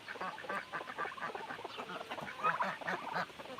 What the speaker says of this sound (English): Does it sound like there is a rooster over here?